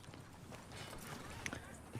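Horses' hooves clip-clop at a steady riding pace in Red Dead Redemption 2, a continuous low patter with occasional sharper knocks, sitting under game ambience and voices.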